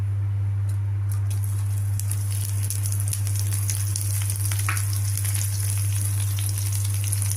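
Slit green chillies go into hot tempering oil seasoned with asafoetida, giving a soft continuous sizzle with a few crackles and pops over a loud steady low hum, no voices.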